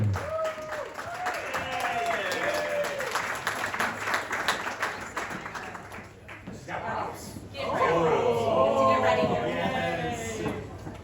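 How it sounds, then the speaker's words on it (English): Wedding guests at a reception applaud for the groom's brother, a steady wash of clapping with voices talking and calling out over it, swelling again toward the end. "Another round of applause, please, for the brother of the groom"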